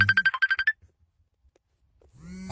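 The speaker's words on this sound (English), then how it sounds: "That's probably a good point to end with that phone call coming in." An incoming phone call's ringtone chimes in a quick run of about eight bright, evenly spaced pulses, then cuts off into near silence before a low hum and noise creep back in.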